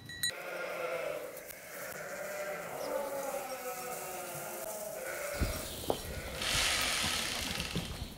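Ewes in a French farm pasture bleat in a steady, wavering chorus, mostly at mid distance, with a louder nearer call toward the end and a few knocks over a constant outdoor background.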